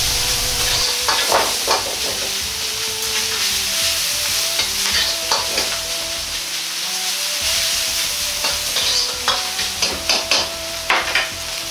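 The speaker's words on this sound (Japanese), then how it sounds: "ひき肉が茶色くなっていくまで炒めていきます" Minced pork is stir-fried in a pan until browned, with a loud, constant sizzle overlaid by repeated spatula scrapes and clacks that grow more rhythmic toward the end.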